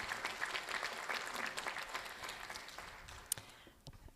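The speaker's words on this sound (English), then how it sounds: "can I please ask our procession to also give a round of applause to our beautiful looking students this afternoon?" An audience applauds at a college graduation ceremony, sustained clapping from a crowd that fades toward the end, with a few isolated claps trailing off.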